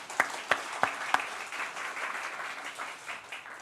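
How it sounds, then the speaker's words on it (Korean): A church congregation at a Sunday worship service applauds after a special choir performance: a few sharp claps open into a steady wash of applause that holds at moderate loudness and slowly thins toward the end. "다시 한번 우리 박수로 해주시고."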